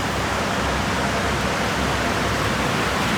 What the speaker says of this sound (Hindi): जो पानी की आवाज़ आ रही है